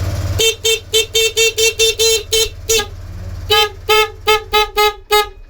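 A motorcycle horn beeps repeatedly in short, loud, evenly spaced toots, with a brief pause before another quick series of honks.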